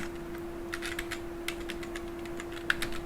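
Computer keyboard typing in short, quick bursts of keystrokes with small pauses, close and fairly quiet over a steady background hum, with no talking.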